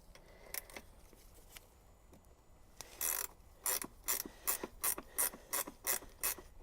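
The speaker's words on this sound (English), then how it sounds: "I need 14mm again, because I want to loosen" A 14mm ratchet wrench loosens the bolts on a Honda VFR800 motorcycle's centre and side stands, giving a few faint clicks and then a run of about nine loud, evenly spaced ratcheting bursts, close up, with no talk.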